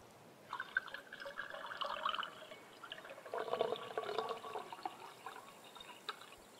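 Water filling a container in the survival game DeadSide, a soft trickling, splashing pour in two bursts of a few seconds each, fairly quiet with no talk over it.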